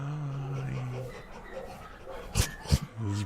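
Short sharp barks from a dog in a video game, two quick yelps a little apart, sounding over game music and a drone, with a person talking in the background.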